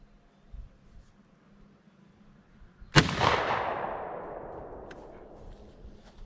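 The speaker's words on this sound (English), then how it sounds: "25 yard shot with the modified choke." A single loud shotgun blast from a modified choke fired at a target 25 yards away, a sharp crack followed by a long decaying rumble over several seconds, with no voices.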